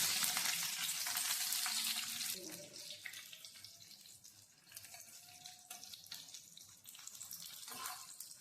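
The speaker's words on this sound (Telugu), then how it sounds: "బాండిల్లో నూనె కాగాక ఇలా ఎండుమిరపకాయలు ఫస్ట్ వేపేసుకోవాలి" Dry red chillies sizzle in hot oil in a pan while a chutney is made, a steady hiss that is strongest at the start and then settles into a softer crackle with light stirring.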